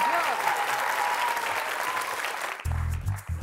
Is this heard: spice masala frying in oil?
no